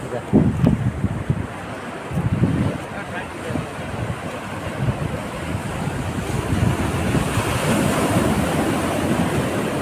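Sea waves breaking on a shore during a family gathering outing, a steady roaring wash of surf with strong wind buffeting the microphone throughout, loud and continuous with swelling surges.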